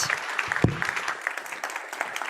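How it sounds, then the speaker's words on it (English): An audience at a startup innovation awards final claps in a steady, moderately close round of applause, with a sharp thump early on. "Let's give a round of applause"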